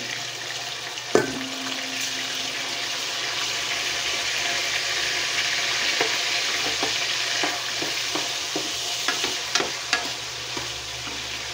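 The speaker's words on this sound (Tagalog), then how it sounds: "Tusino na lang yung pinaka-terno natin dito. So, lagay na natin." Tocino sizzling and frying in a pan, a steady crackling hiss with a sharp clatter near the start and scattered pops and taps of stirring throughout, close and without talking.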